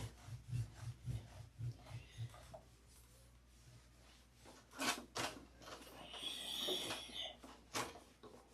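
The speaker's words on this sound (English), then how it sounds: "a little more buffing right there." Buffing a surface to remove haze, heard as rhythmic close rubbing strokes at first, then quieter scrubbing with a longer, brighter swipe near the end; faint and fairly near.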